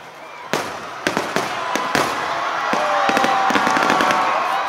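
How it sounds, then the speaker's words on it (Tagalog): Fireworks crackle and pop repeatedly in quick bursts at a Christmas tree lighting at SM City Baguio, with a steady roar of a crowd underneath, fairly loud and continuous. "Nasinabayan pa ng engrandeng fireworks display ng SM City Baguio."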